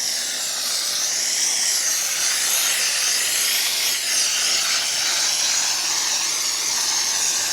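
Steam cleaner working over the upholstered seats of a 2007 Subaru WRX, giving a continuous, loud, even hiss close up with no talk.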